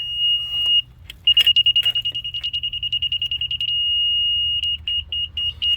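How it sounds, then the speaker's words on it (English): A laser level receiver's high electronic tone beeps in rapid, regular pulses, settles into a long steady tone, then resumes shorter beeps, with low rumble underneath, while setting grade for a deck and ramp. "if we're below grade, it's going to beep slow."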